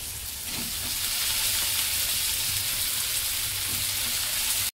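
Brinjal pieces fry in a pan with a loud, steady hiss and crackle that stays close and unbroken until it cuts off abruptly.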